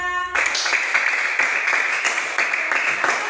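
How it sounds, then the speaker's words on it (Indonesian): A classroom applauds group 2 with steady clapping from many hands right after a brief opening tone. The clapping carries on evenly for about three seconds and stays moderately loud. "Berikan aplaus untuk kelompok 2."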